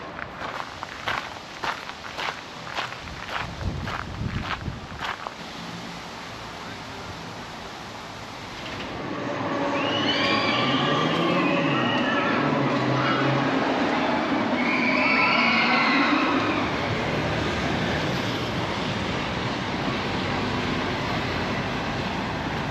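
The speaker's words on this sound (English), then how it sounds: "Here we are at Copenhagen's Central Railway Station." Busy ambience inside Copenhagen Central Railway Station, with a few sharp footsteps or knocks early on, then a louder steady wash of train and crowd noise with faint distant voices and announcements.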